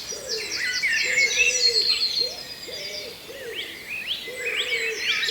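A person imitates a wood pigeon's coo at dawn, voicing several soft, hooting phrases in a steady rhythm while a busy chorus of songbirds chirps and trills higher up.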